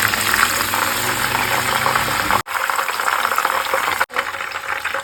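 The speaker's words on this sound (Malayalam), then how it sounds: "ക്യാപ്സിക്ക അതും കൂടി പൊരിച്ച് കോരിയെടുക്കുന്നു" Cashews, raisins and capsicum deep-frying in hot oil, a loud steady bubbling hiss and crackle that continues throughout with two brief dropouts.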